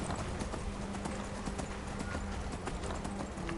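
Horse hooves clip-clop at a steady gallop in Skyrim, a continuous rhythmic pounding that stays close and fairly loud for the whole stretch.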